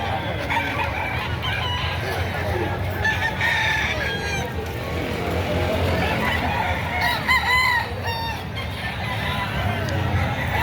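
Roosters crow repeatedly over a busy, noisy crowd at a Philippine chicken market, with clucking chickens mixed into the steady market bustle.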